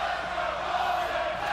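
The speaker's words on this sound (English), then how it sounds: "Listen to this crowd." Wrestling crowd at a Ring of Honor show, a steady, fairly distant roar of cheering voices with no clear peaks, heard throughout.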